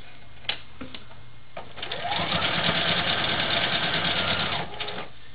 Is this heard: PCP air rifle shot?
no